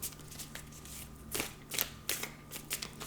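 Tarot cards shuffled by hand for a three-card draw, soft riffling flutters and light slaps, quiet and close.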